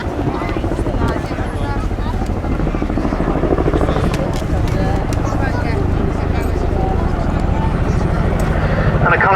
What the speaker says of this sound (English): a kind of final fly past from the Chinook